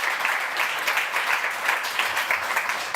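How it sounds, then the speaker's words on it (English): An audience at a European Citizens' Initiative campaign launch for Palestine applauds, a dense, even roar of clapping that holds steady for several seconds. "give the Palestinians and the Greenlanders the applause"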